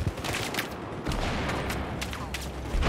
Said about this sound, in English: Someone's sniping as well.